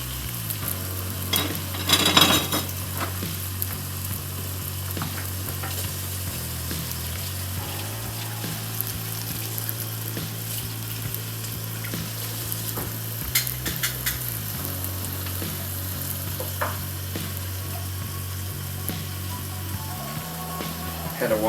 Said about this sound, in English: So when I sit there, it's sizzling nicely.